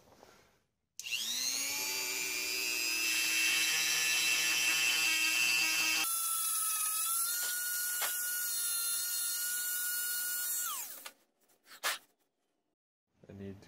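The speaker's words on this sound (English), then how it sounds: "Now I'm gonna finish off these finger grooves with the Dremel." A Dremel rotary tool shapes finger grooves in the wooden handle of a bearded hatchet: a loud, high-pitched whine that shifts pitch midway as it bites into the wood, then winds down at the end.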